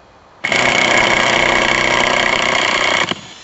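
A power tool driving exterior screws into a garden cold frame runs at full trigger for about two and a half seconds. The whine is loud and steady, starts and stops abruptly, and has no talk over it.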